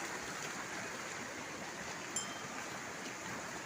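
A flowing spring stream at a hillside settlement gives a steady, even rush of water throughout, moderately loud and close, with no voices.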